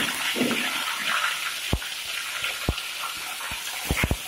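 Curry leaves go into hot oil in a clay pot for a coconut-ground fish curry, giving a steady close hiss of frying with a few sharp pops and crackles toward the end and no talking.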